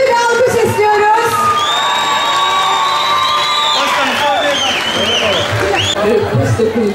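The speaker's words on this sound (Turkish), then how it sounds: "Güçlü bir alkış istiyoruz" A lively crowd at a Turkish event cheers, whoops and claps, with shrill excited shouts and whistling cries rising over loud applause and a busy hubbub of voices.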